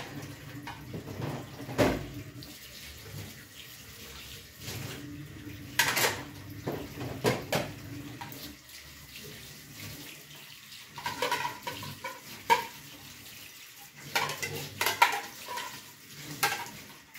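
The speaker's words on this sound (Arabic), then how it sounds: "اغسل الحوض بعد ما اخلص المواعين بالسلكه." Dishes washed at a kitchen sink, with a steel wool scrubber scouring pots and the basin. Running tap water sounds throughout, and pots and cutlery clink and scrape in irregular bursts. There is no talking.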